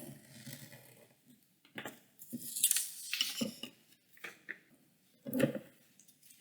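Scissors snipping through a paper image, a series of short crisp cuts with irregular pauses between them, close and fairly quiet, with no voice.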